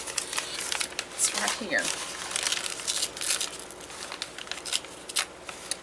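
Scissors snip and crinkle through a plastic bag in a few close, crisp cuts, with a person talking quietly over the rustling.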